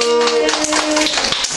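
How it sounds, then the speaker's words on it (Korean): Young children at a Christmas puppet show in a daycare clap briefly, a short burst of close, loud claps over a bright sustained tone and some voice sounds. "박수"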